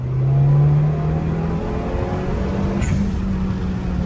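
A K24-swapped Suzuki Cultus pulls hard on boost in second gear, its engine note loud and close, climbing steadily in pitch as the car accelerates.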